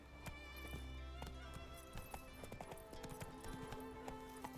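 Horse hooves clip-clop steadily on a road in the video game Witcher 3, a close, even trotting rhythm with the horse's tack and a brief snort or whinny mixed in.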